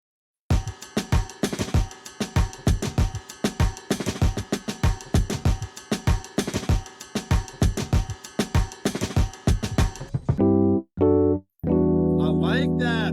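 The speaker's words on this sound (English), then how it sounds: "So altogether, drums sound like this." Full drum loop from a beat-battle track, snare rolls and tom fills hitting in a steady dense rhythm under light bus compression and brightened highs, close and loud, ending with a few sustained tonal bursts.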